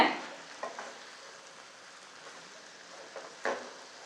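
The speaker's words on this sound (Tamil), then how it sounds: "இப்போ சாதத்தை சேர்த்துக்கலாம் இப்போ மெதுவாக கலந்து விட்டுக்கலாங்க" Cooked rice is gently stirred into a tomato mixture in a frying pan, with a soft sizzle underneath and a few scraping spoon strokes against the pan.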